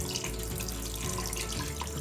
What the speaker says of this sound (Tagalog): ito po ay hugasan ko muna po itong chicken